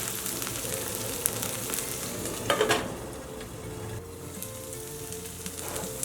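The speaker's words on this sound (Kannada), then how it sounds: "ಮುಚ್ಚಿಬಿಟ್ಟು ಬಟಾಣಿ ಬೇಯುವವರೆಗೂ ಬೇಯಿಸ್ಕೊಳ್ಳೋಣ." Fresh green peas with grated ginger cooking in a covered pan, giving a soft, steady sizzle and crackle with a few light clinks around the middle, quiet and close.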